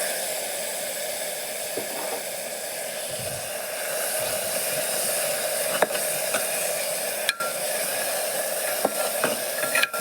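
Masala cooks with curd in hot oil over low heat, giving a soft, steady hiss and sizzle, broken by a few sharp scrapes and taps as it is stirred, close and moderately quiet.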